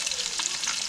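Onions with green chillies frying in a pan for Kerala-style kappa biryani, a soft continuous sizzle heard close and fairly quiet over a short stretch.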